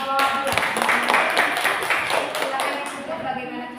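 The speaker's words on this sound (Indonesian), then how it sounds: "kasih tepuk tangan untuk kelompok 2" Group applause in a classroom for a student team after a Pancasila discussion, steady close clapping from several people throughout, with voices mixed in.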